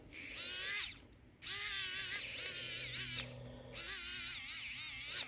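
A power screwdriver drives a screw into a tassel zipper pull in three loud whirring bursts, each lasting about a second with brief pauses between, the pitch wavering as the screw binds.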